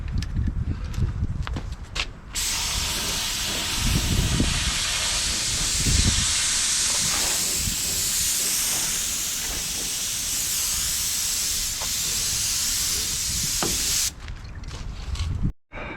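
Paint sprays onto a truck tire cover with hand-mixed Rust-Oleum paint in place of a rattle can, a continuous loud hiss lasting about twelve seconds, framed by handling clatter before and after.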